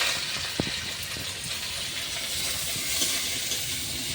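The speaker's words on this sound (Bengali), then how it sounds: "এতে চিকেনটা সেটা ভেজে নেব" Chicken frying in a pan with oil, a continuous soft sizzling hiss with a few small pops and crackles early on, close and steady for the whole stretch.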